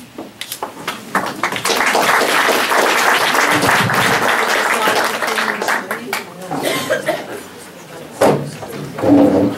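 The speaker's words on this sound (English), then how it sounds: "A reminder to hold your applause too" Audience applause at a candidate forum breaks out after an opening burst of claps, swells into a sustained stretch, then thins out into scattered claps and chatter.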